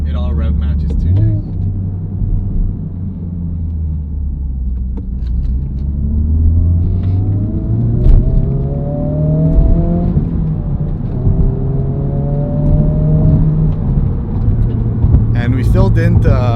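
A FL5 car fitted with a Spoon Sports N1 exhaust pulls at wide open throttle. A deep cabin rumble climbs steadily in pitch as the revs rise, a smooth, moderate-volume exhaust note without drone.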